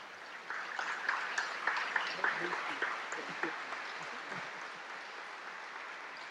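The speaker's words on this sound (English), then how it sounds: "Give him a warm round of applause." An audience gives faint, distant applause, a soft wash of clapping with a few louder bursts early on that gradually settles, quiet overall.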